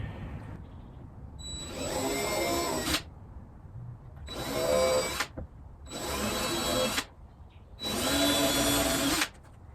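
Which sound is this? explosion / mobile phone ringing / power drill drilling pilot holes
power drill drilling pilot holes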